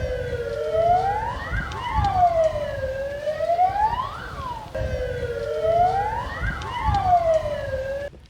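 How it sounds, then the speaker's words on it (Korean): Fire engines from Namhae Fire Station arrive at a disaster-response fire drill at Namhae Cultural Center, their wailing sirens sweeping up and down in overlapping loud cycles over road and engine rumble. "현재 화재 신고 출동 지시를 받은 남해소방서 선착대가 도착하고 있습니다"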